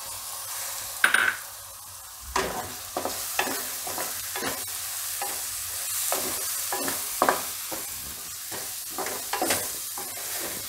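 Tomatoes are stirred into a sizzling mixture for Gujarati tuver na totha, with a constant frying hiss and repeated spatula scrapes against the pan at an uneven rhythm, close and clear, with no voices.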